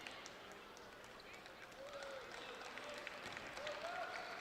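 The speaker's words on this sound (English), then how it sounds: "D'Angelo Kirkland, a round of applause for him as he hits the bench" A basketball crowd in a college gym gives a faint, steady round of applause as a Cougars senior heads to the bench, heard at a distance under a commentator talking.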